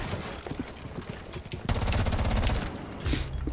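Gunfire in the Rainbow Six Siege video game, a rapid burst of automatic shots cutting in halfway through over faint background noise, followed by a short sharp crack near the end.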